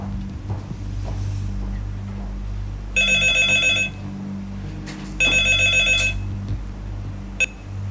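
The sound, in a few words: telephone ringing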